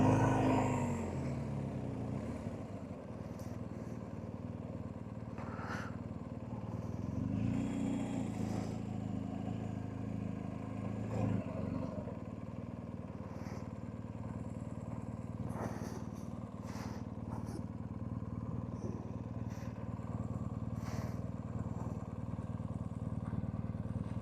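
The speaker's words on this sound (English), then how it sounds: "Couple of big fat boy Harleys there." Harley-Davidson Fat Boy motorcycles in a car park near the Grimsel Pass, Switzerland, a low engine rumble running the whole time with idling and revving swells, plus occasional clatter and passing traffic.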